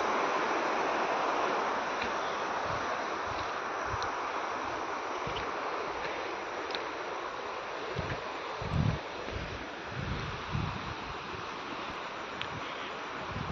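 Water flows plentifully through a channel on a farm, heard as a constant broad rushing, with a few faint low thumps toward the end and no voices.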